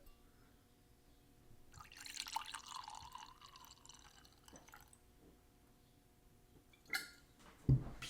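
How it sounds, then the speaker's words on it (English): Drink poured into a glass in a slow, quiet stream of soft liquid trickling and splashing, followed by a few faint drips and small clinks, with no voices. "the ASMR pour"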